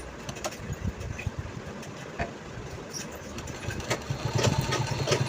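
Sewing machine stitches a pencil pouch made from old jeans, running in a steady rapid mechanical patter with soft needle ticks, close by and continuous, growing slightly louder toward the end.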